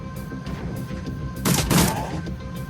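A gunfire burst in Shadowrun: Dragonfall, with a loud cluster of sharp shots arriving midway over a steady droning game background, followed by fading rumble.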